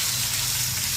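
Spice paste dropped into hot oil, a bright steady hiss of frying that fills the whole brief moment without any speech.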